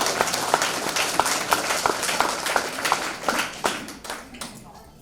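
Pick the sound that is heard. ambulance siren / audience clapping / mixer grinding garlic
audience clapping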